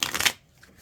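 Tarot cards being shuffled by hand during a reading: a short burst of dense riffling flutter lasting about a third of a second, then quiet.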